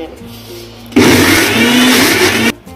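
A mixer grinder grinding spices, fenugreek, turmeric, garlic, cumin and tomatoes for a pickle, starting abruptly into a loud steady whirring roar for about a second and a half before cutting off, preceded by quieter background noise.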